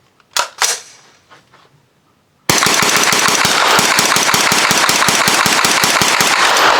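Rapid gunfire from a Jard J68 pistol caliber carbine, a loud string of about two dozen quick evenly spaced shots fired in one burst after a few faint handling clicks.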